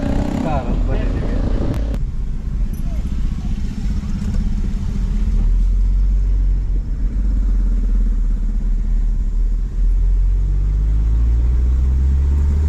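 A car drives along the road, its engine and tyre rumble steady and close inside the cabin, after a brief clatter at the start.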